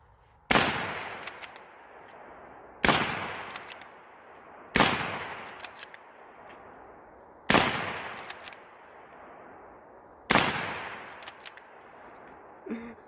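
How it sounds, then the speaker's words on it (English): Five single shots from a Mauser Model 1895 7mm rifle crack out at even intervals, each a sharp, loud report trailing off into a long echo, with no talking. "Mauser, Model 1895. model 1895, shoots 7mm."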